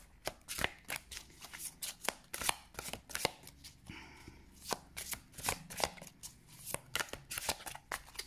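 A deck of tarot cards is shuffled in a rapid run of crisp, riffling card slaps and flutters, repeating in bursts close to the listener with no talking.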